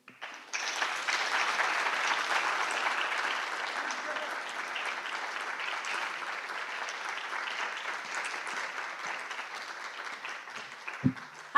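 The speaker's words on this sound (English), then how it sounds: "Can I just ask for another round of applause" An audience at a stage-industry event in Los Angeles bursts into sustained applause after closing remarks, loud dense clapping that swells, holds for about ten seconds and then fades.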